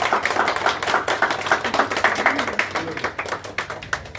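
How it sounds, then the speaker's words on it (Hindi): A small group claps inside a Javed Habib salon, a loose uneven patter of hands lasting several seconds, moderately close with faint voices underneath. "ताली बजा रहे हैं क्या बात है।"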